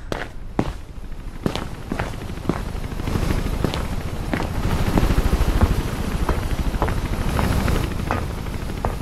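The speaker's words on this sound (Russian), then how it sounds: "Туда уже приближается вертолет" Helicopter approaching a rooftop in the video game Mirror's Edge: a steady rotor roar builds and stays loud, with sharp footstep-like impacts and thuds scattered across it.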